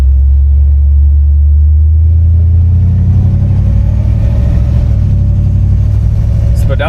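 1962 Chevrolet Impala SS engine running, a loud, deep, close rumble with a slowly shifting tone, as if heard from inside the car while driving.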